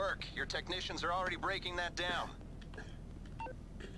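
A phone being dialled in the game GTA V Online gives a short run of rapid touch-tone beeps, followed by a quieter stretch with faint room noise.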